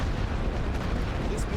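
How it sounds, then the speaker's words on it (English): Artillery fire in the WWI strategy game The Great War: Western Front, a dense, continuous rumble of distant booms and bursts filling the short stretch at a fairly loud, steady level. "Oh god, artillery, get there."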